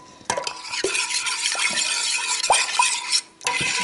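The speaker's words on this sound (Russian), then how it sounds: "Первый раз, кстати, мешаю вот ложкой." A spoon stirs liquid into margarine in a bowl, producing a wet, continuous swishing with several sharp clinks of metal against the bowl, close and steady with no talking.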